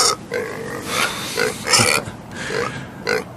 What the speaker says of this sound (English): Just wrapping a pig in a blanket.